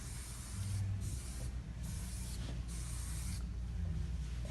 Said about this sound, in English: I'm going to use this shine spray, which is going to create a super shiny hair.